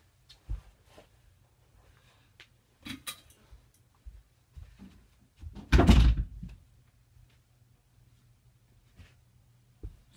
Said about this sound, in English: But first I gotta close the door and turn on my light.